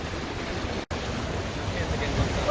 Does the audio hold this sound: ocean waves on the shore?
yes